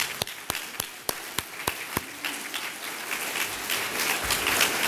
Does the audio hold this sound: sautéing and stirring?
no